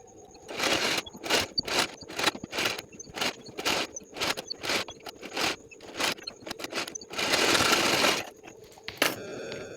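A sewing machine stitches fabric to a blouse lining in short, separate bursts of mechanical whirring and rattling, close by, with one longer run near the end and quiet gaps between.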